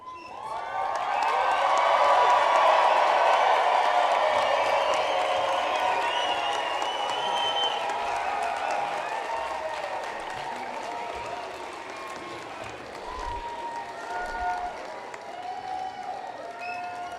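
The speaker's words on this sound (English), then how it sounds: "Now I want hands and hats in the air and a loud cheer for our graduates" Audience at an Adams State University spring commencement ceremony bursts into sustained applause and cheering for the graduates, loud and dense crowd noise that swells early then slowly tapers off.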